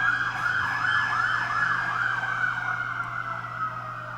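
An emergency vehicle siren in an inner-city street wails in a steady repeating up-and-down sweep, loud and close throughout, over low traffic rumble.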